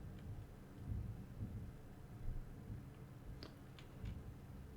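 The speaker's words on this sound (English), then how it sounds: "But if you did, there's a bit of thunder." Thunder outside during a tabletop game session, a low, distant rumble that swells and fades under steady background noise, with a few faint clicks and no speech.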